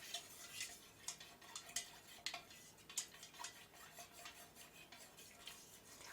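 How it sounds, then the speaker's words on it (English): A spoon clanks and taps against a container while wax is stirred, with a quick irregular series of light metallic clicks at close range over a quiet background. "I'm sure it's very annoying hearing my little clanking with my other spoon"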